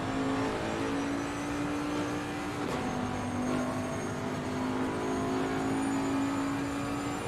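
Bentley GT3 race car in Assetto Corsa Competizione, racing at Bathurst, its engine holding a steady high drone under full throttle while climbing, with a brief gear-change dip midway; loud and continuous throughout.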